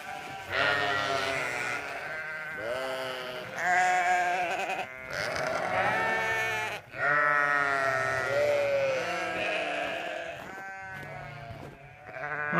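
Sheep bleat in a barn during winter feeding, several loud, close, wavering calls overlapping one another almost continuously, with short pauses between bursts.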